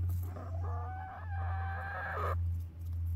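Young chickens at 17 weeks old crow and cluck in a backyard run, a single drawn-out hoarse call standing out clearly over a steady low hum.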